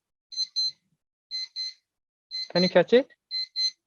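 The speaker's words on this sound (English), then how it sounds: "So I will send this beep sound." Pairs of short, high electronic beeps repeat at intervals, with a person briefly speaking between them.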